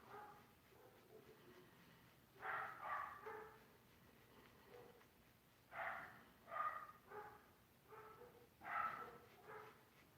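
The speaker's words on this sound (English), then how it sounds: "The neighbor dogs are going crazy." Neighborhood dogs bark in repeated bursts, several clustered volleys with short pauses between, at moderate distance over a quiet background with no talking.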